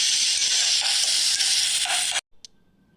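Onions sautéing in hot oil with cinnamon and fennel for a spiced meal maker fry, a loud steady hiss of frying running without pause for about two seconds before cutting off abruptly to near silence.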